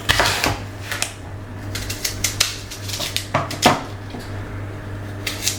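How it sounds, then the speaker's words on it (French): A knife cuts apples into quarters and peels them, giving repeated sharp taps and scrapes against a board at an uneven rhythm over a steady low hum. "Nous commençons par couper en 4 nos pommes et les éplucher."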